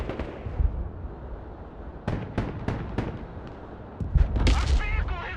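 Mortar rounds firing in the military strategy game Broken Arrow, a series of sharp, fairly close thumps and cracks in irregular bursts over a low battlefield rumble, with a voice speaking briefly.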